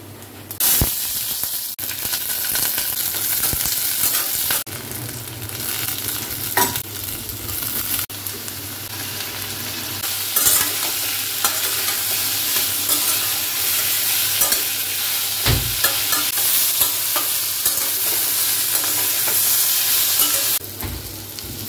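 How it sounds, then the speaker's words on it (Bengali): Bitter gourd frying with onion in a pan, a steady sizzle with stirring scrapes and occasional clatter running throughout at close range, with no talking. "উচ্ছে ভাজবো আজকে।"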